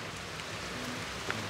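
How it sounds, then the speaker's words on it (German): Rain falling outdoors, a soft, steady patter and hiss at low level with a few faint individual drops. "Jetzt hat es auch noch angefangen zu regnen."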